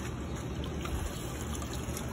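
Water drawn by hand from a well in a place without electricity, a soft, steady trickling and pouring that stays fairly faint and close, with no voices.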